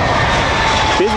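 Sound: Spirit Airlines jet arriving at Cleveland airport

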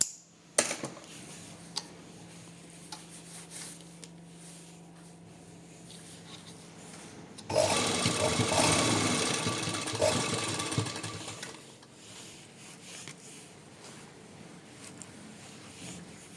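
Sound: sewing machine stitching cotton lace

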